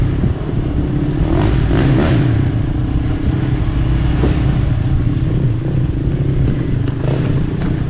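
Motorbikes off-roading at the ZigZag roar loudly nearby, their engines revving and surging with rough clattering bursts across several seconds and no talking.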